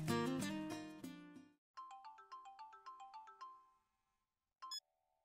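A mobile phone ringtone plays a loud, rich chiming melody, then repeats as a quicker series of bright electronic tones before stopping, with a short final blip.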